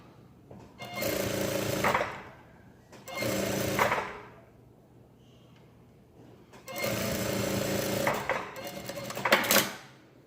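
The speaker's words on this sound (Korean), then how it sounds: "오바록 치신 다음에 위로 올려서 여기도 역시 스티치 한번 합니다" A sewing machine stitching a blouse runs in four steady bursts of a few seconds each, with short quiet gaps. The whirring motor is close and fairly loud.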